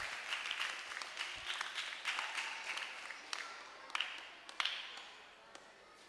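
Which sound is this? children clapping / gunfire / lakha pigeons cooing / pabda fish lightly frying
children clapping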